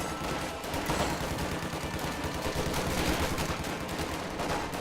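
Company of Heroes 2 troops trading gunfire, with a US lieutenant firing at a Wehrmacht grenadier squad, continuous dense crackle of rifle and machine-gun shots under a steady battle din, no voices.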